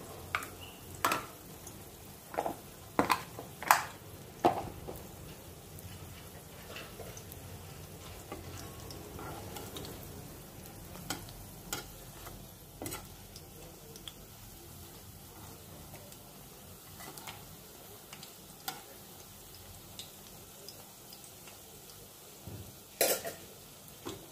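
Garam masala and roasted spice mix fry in a pan with a faint continuous sizzle, broken by occasional sharp scrapes and taps as the spoon stirs, plus a few throat-clearing sounds.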